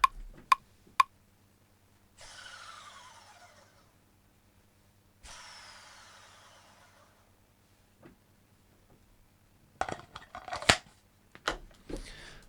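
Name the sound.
scissors snipping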